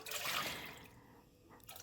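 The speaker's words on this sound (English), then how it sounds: "I'm also adding 4 cups of water." Water pouring into a pot of store-bought chicken broth for wonton soup, a brief splashing gush that fades out within a couple of seconds, close and fairly quiet.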